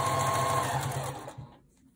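A sewing machine stitches steadily along the edge of a quilt block with a fast, even whirr, then slows and stops.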